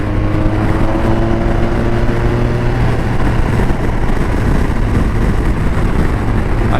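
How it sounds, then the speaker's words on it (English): A BMW R1250 RT motorcycle with a boxer engine cruises on a highway, its steady engine drone blended with heavy wind and road roar, the engine tone fading into rushing noise partway through. "Just nice to use that boxer motor, usable power."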